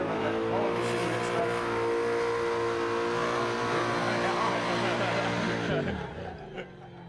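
A Volkswagen engine revs hard during a burnout competition, a loud sustained roar that rises and shifts in pitch before easing off near the end, with faint crowd sounds mixed in.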